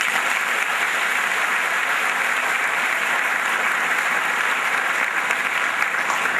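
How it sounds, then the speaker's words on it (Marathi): Loud, continuous clapping from a large audience at a talk in Akluj, an even wash of many hands beating steadily from start to finish with no voices on top. "अजून एकदा टाळ्या वाजवतो जोरात"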